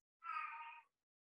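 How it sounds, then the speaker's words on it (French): Pet cat giving a single clear meow, close and fairly quiet, lasting under a second against silence. "c'est mon chat. Alors, c'est mon petit à moi qui fait ce bruit-là."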